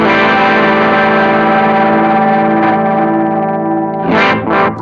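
Electric guitar played through a NUX Mighty Plug amp modeller with modulation and delay effects, sustained distorted chords shimmering and swirling, then a couple of picked bursts near the end trailing into echoes.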